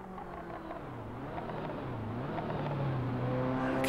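A Ferrari racing car in the driving game Assetto Corsa gives a rough, droning engine note that climbs steadily in pitch and loudness as it revs. It sounds alone, with no talking.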